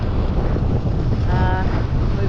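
Steady, heavy wind roars and buffets the microphone over the rush of open sea while sailing into the waves, loud and continuous throughout.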